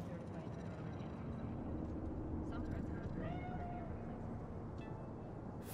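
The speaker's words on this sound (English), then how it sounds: "Do you see it? That cat?" A cat meows in Cyberpunk 2077's Night City, one short rising cry partway through, heard beneath a steady bed of city ambience and game background noise.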